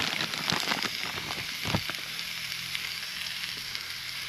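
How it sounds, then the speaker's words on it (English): Steak sizzles in a cast iron cooker outdoors with a dense, crackling hiss, while a few louder pops and clatters come early on before the sizzle settles into a steady, close, moderately quiet sound. "Heard a sizzle there. That is a beautiful piece of steak."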